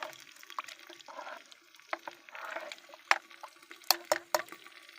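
Ground horse gram paste is stirred into water in a clay pot for a curry, giving soft sloshing and liquid swirls with a few sharper drips and splashes near the end, close and moderately quiet.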